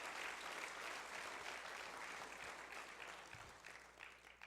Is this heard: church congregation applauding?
yes